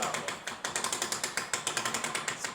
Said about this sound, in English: You spin this wheel, you hear that ratcheting noise.